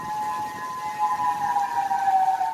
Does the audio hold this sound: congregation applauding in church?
no